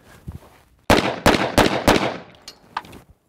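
A double-barrel 1911 pistol firing: four loud, sharp reports in quick succession, close by, each with a short ringing tail, then a few faint clicks as the shooting stops.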